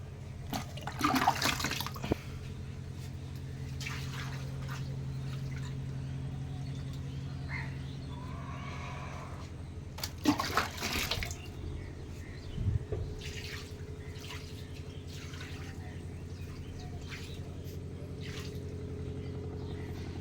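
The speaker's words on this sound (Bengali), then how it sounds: "এবারে দেওয়া হবে ঘোলা জল। এই ঘোলা জল দেওয়া হচ্ছে সিমেন্ট ঘোলা।" Watery cement slurry is poured onto stair tiles during riser tiling, giving two brief splashing gushes, one near the start and one midway, over a low steady background hum.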